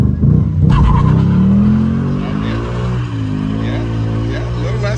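A Ford Mustang RTR rumbles loudly up close, its engine tone climbing steadily during a burnout, with a hint of tire scrub beneath. People talk over the engine.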